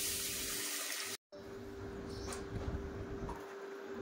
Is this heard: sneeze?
no